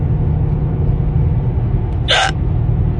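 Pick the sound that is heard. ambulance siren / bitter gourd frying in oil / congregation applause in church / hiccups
hiccups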